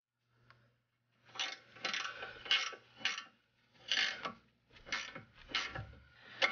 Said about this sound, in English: So now we tighten up this portion of the tie rod.